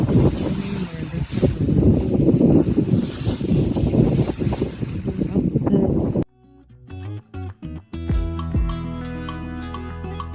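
Strong wind roars over a sailboat crossing about two meters of swell among the Orkney and Shetland islands, loud and rushing for several seconds before giving way to music.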